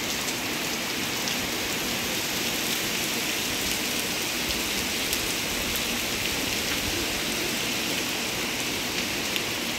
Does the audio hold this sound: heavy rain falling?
yes